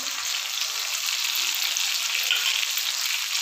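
Ginger paste, tomato and cumin powder fry in hot oil while being stirred, giving a steady, close, loud broadband sizzle that holds evenly throughout with faint scraping and no talk.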